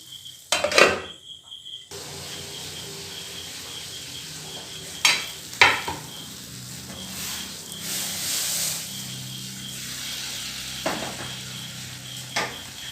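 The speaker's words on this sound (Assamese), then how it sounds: "ইয়াতে মই এতিয়া ঢালিম গৰম পানী।" Hot water poured into a hot pan of Assamese curry sizzles and hisses steadily, with a few sharp clanks of utensils against the pan along the way.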